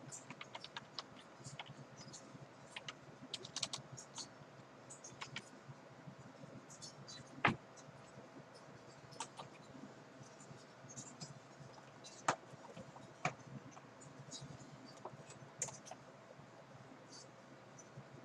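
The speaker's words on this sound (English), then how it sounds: "As you can tell, I've been typing." Steady tapping of computer keys, soft and close, with irregular bursts of keystrokes and a few louder clacks scattered through the stretch.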